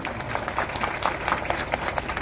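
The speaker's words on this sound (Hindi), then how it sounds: "कैसे बोलिए, ताली बजाए के?" Steady applause from an outdoor crowd at a village public grievance meeting, thanking the chief minister: dense, even clapping at moderate loudness, continuing throughout without pause.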